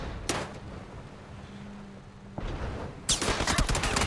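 Gunfire in PUBG during an EU pro scrims match, a sharp burst near the start, a quieter lull, then a denser rattle of shots toward the end, with no talk over it.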